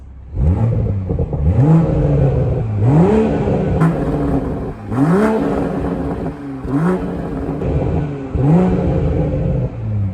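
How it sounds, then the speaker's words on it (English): A 2017 Porsche 718 Cayman S on a cold start with its exhaust valves open, giving several loud, rising revs that sweep up and drop back in a steady rhythm over a constant rumbling base, close to the car with no talk. "So this is going to be a cold start on a 2017 718 Cayman S."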